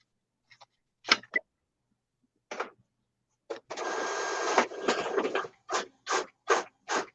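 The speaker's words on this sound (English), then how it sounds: "you can hear the printer" An office printer runs in short separated bursts, then a longer continuous feed, followed by several rhythmic clicks and whirs, fairly close and alone.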